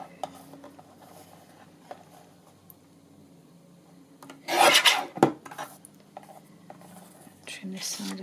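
A paper masterboard tag for card making is trimmed, with a short, loud burst of rasping cuts midway amid quiet paper handling and soft rustles.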